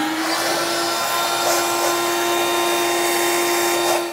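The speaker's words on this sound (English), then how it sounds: "once you've done some cleaning, you can vacuum this up" A vacuum sucks up debris while cleaning the intake ports of a twin-turbo V6 car engine, a loud steady whine with a strong tone, running close and alone for about four seconds.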